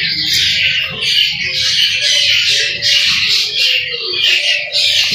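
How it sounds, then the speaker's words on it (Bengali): Colourful pet budgerigars, a breeding pair kept with eggs and newly hatched chicks, give a steady, busy stream of chirps and squawks that continue close by throughout, with no talking. "এই জোড়াটাও অনেক সুন্দর কালারফুল পাখি"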